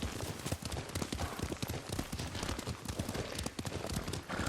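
Horse hooves clip-clopping at a steady riding gait in the video game Ghost of Tsushima, a rapid continuous patter of hoofbeats, close and even, with no talk over it.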